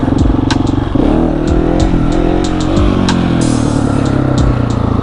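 A KTM 701 motorcycle revs hard in first gear during wheelie practice, its engine note rising and falling in repeated surges, loud and close throughout with no talk.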